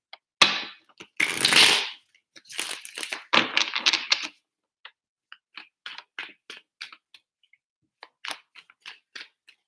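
Tarot cards being shuffled: several loud, riffling bursts near the start, then a run of light, separate ticks and taps as the cards are handled, with no talking.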